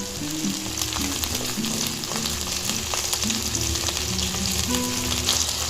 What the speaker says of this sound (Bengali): ঢ্যাঁড়সটা এমনভাবেই ভাজবো যাতে কালারটা সবুজই থাকে, একটুও যেন না লাল হয়।